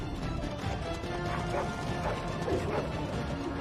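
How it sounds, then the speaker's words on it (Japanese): Many dogs bark and yip amid clattering fight noise in the fantasy role-playing game Dragon Age: Origins, a dense, continuous battle din with faint voices underneath. "うわ、ワンコも多いな。"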